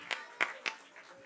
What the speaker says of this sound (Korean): 아, 우리 박수.